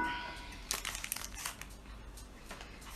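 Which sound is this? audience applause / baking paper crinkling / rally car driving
baking paper crinkling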